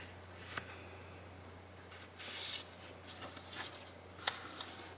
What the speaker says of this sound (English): we're going to fold the bottom of our paper up to the point